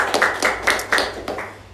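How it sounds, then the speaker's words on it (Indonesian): A small audience at a campus discussion event claps in about six distinct, uneven bursts, fairly close and tapering off toward the end. "Tepuk tangan dulu."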